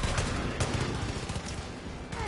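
Rapid gunfire from an MP34 submachine gun in the video game Far Cry 5, a dense continuous burst of shots with a few louder cracks, close and loud, with no talk.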